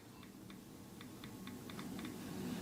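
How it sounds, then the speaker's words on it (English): Soft, quick taps on a Samsung Galaxy A23 phone's touchscreen keyboard in short irregular bursts, fairly quiet against a low background hum. "So I'm typing my message."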